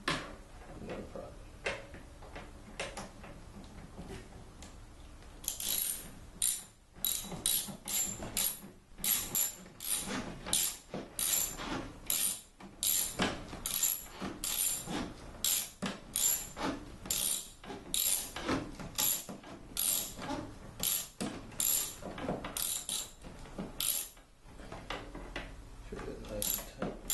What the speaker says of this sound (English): socket wrench extension and a small adapter with my Phillips bit in there